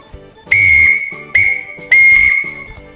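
Three loud, piercing Scout whistle blasts spell the Morse letter K in long-short-long form, each blast steady and near, with brief gaps and no voices.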